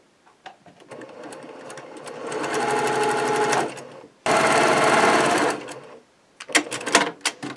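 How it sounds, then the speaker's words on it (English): A sewing machine with a quarter-inch foot stitches through fabric in two sustained runs of steady whirring, broken by a brief pause, then followed by a few short bursts and clicks as it stops. "you're going to take it to the machine. You're going to have your 1/4 inch foot on your machine"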